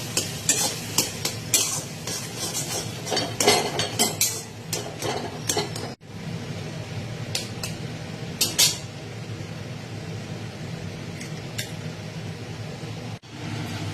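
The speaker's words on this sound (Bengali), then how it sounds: "এবার ভালো করে আমি পেঁয়াজ লঙ্কা বেগুন আর নুন হলুদের সাথে এটা মিশিয়ে নেব" Onion, chili and eggplant are stirred with salt and turmeric in a pan for a Bengali eggplant-and-egg dish. A utensil scrapes and clatters in bursts over a steady background sizzle, busier in the first half, then sparser with occasional clinks.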